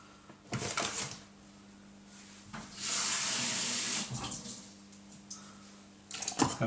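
Tap water runs into a measuring cup to feed a sourdough starter, in a few short splashing bursts with one steadier pour in the middle, close by in a quiet kitchen.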